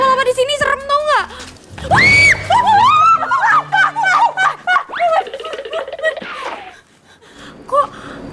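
A young woman screams and gasps in a loud, shrill burst near the start, with excited vocal outbursts and speech-like cries following in a rapid, agitated stretch.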